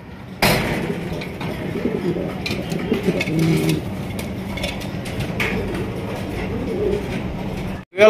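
Fancy pigeons coo softly in low, rounded calls among cages at a pigeon sale, under a rumbling background and some faint human voices.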